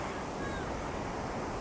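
Sea waves at a Sydney beach wash in as a continuous broad roar, steady and fairly loud, blended with wind buffeting the microphone, with no voices.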